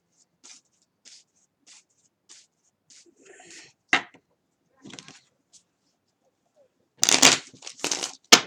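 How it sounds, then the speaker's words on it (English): Romance Angels oracle cards being shuffled by hand in soft, brief riffles and rubs, a few crisp louder bursts near the end, with no talking. "Okay, one more shuffle."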